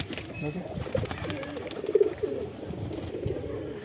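Teddy and Andra breed pigeons coo softly in a loft, low throaty calls repeating through the short stretch, with background voices and other birds faintly mixed in.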